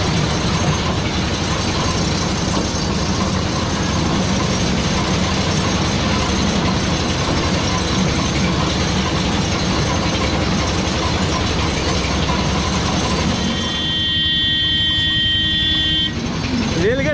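A train rolls past an open level crossing at the Howrah Rail Museum near Kolkata, a steady loud broadband rumble lasting throughout, with a brief tonal horn-like toot near the end and voices mixed in.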